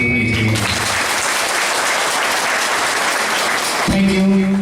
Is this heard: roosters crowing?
no